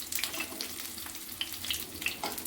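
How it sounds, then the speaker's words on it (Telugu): Rolled taro leaf parcels fry in shallow oil, crackling softly with scattered small pops and a light, continuous sizzle. The sound is close but quiet and carries no voices. "వీటిని ఎర్రగా అయ్యేలాగా వేయించుకోవాలి."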